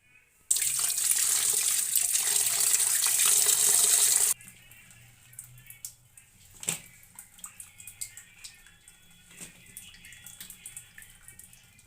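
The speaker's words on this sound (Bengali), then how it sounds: "এবারে আমি ভালো করে ধুয়ে নেব" Running tap water pours steadily over cut elephant apple (chalta) in a kitchen sink for about four seconds, loud and close, then stops, leaving soft handling clatter and drips.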